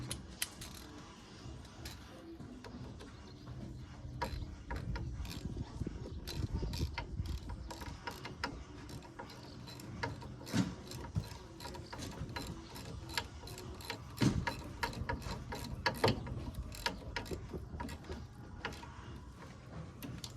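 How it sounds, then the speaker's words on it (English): A ratchet wrench clicks in quick, uneven bursts while tightening a 10mm bolt on the coil spring suspension of a Renault Clio Mk4, with soft metallic ticks and faint clatter at low volume. "I'm going to get this 10 tightened up first"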